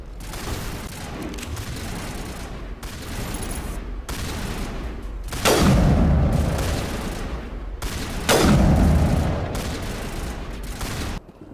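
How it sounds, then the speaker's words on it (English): Gunfire crossfire from turrets in the Mass Effect video game: repeated bursts of shots with two heavy booming blasts, loud and close, over a steady background rumble. "Runaway is under coordinated crossfire. Check for long-range turrets helping the guest target."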